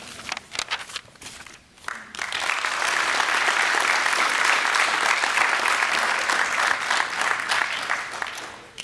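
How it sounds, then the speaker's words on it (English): Loud, sustained applause from the audience at a university presidential investiture ceremony, beginning with scattered claps and swelling after about two seconds into a dense, steady roar of clapping that fades slightly toward the end. "Please join me in one final thunderous clap for Scott President Molander."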